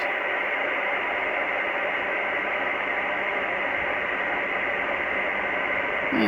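Broadband shortwave static hisses steadily from a Grundig Satellit 3400 receiver tuned to lower sideband, a dense even rush with no voice coming through.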